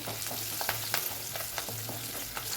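Steady sizzling and crackling of small onions with turmeric sautéing in a pan, with occasional soft stirring clicks, no voices.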